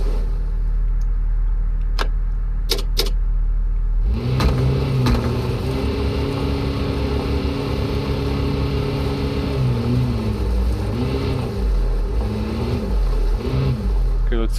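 Engine in the Offroad Mechanic Simulator video game idling after a few sharp clicks, then rising into a steady drone with pitch dips and swells as the revs shift, close and continuous throughout, with a voice talking over it.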